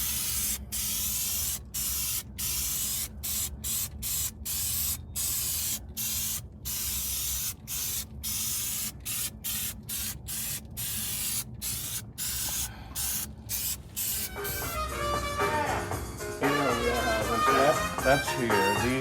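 Eastwood Contour SCT coating sprays from a can during work on a 1969 Pontiac GTO convertible, coming as a rapid series of short hissing bursts with tiny gaps between them. Voices and music come in near the end.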